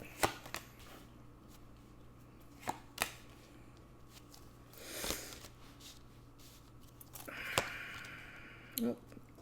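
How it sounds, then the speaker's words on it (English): Tarot cards are taken out and handled in a quiet room: scattered soft clicks, slides and rustles of card stock, close but faint, with a brief shuffling burst midway and a sharper rustle near the end. "let me just get the cards out"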